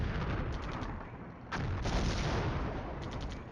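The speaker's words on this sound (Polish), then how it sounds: "Kładziemy teraz miny z pomocą artylerii." Artillery fire laying mines in the Cold War strategy game Flashpoint Campaigns, heavy rumbling booms that build into a sustained barrage with a sharp blast midway, loud and without talk.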